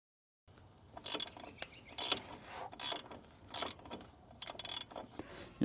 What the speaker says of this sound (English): you grab a wrench and you just start wrenching this right off